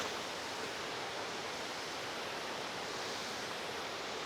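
Water pouring over the Moricho Poran rubber dam at Nalitabari, heard as a continuous, even broadband rush with no breaks, moderately faint and without voices.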